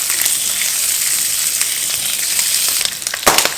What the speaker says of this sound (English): just got some bacon frying here